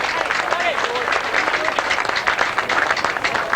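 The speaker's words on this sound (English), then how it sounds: "They deserve the rounds of applause" Crowd applause for the Brighton football team at a VAFA B Grade Seniors grand final, a steady wash of clapping with voices and cheers mixed through it.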